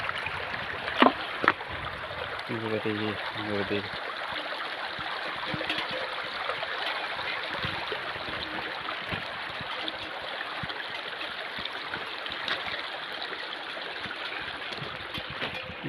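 Water flows steadily over a river crossing on the Narmada parikrama route through the Dindori forests, a continuous broad rushing and trickling wash, with a brief spoken exclamation early on.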